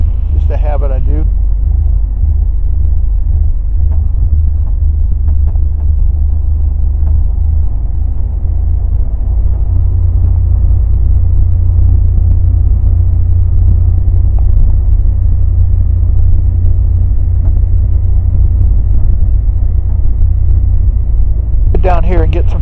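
A small airplane engine rumbles loud and deep at close range, holding a constant drone throughout as the plane taxis. A voice speaks briefly at the start and again at the end.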